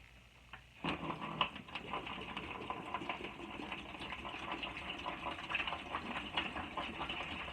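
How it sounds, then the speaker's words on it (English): Water pours into a container as a continuous rushing gush that starts abruptly and runs steadily at moderate loudness, part of mixing a citric acid de-rusting bath for lathe change gears. "we'll start by adding the water"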